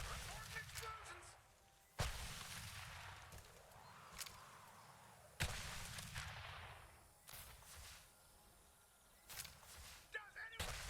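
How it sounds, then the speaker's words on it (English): Explosions and gunfire in the video game Wild Bastards: sharp, loud blasts break out at irregular intervals, each trailing into a rumbling wash, with scattered smaller pops and voices talking in between. "Reporting explosions."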